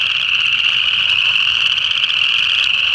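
Chorus frogs calling in late winter, a dense, loud chorus of rapid trilling croaks that runs without a break, several frogs overlapping at close range.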